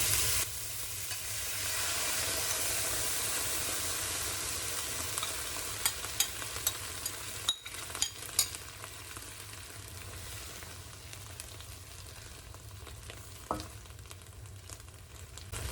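Shrimp and garlic frying in a pan for tomato shrimp, with sauce just poured in, hiss in a steady broad sizzle, broken by a few sharp clicks and pops of the spatula as the mix is stirred, close and fairly loud throughout.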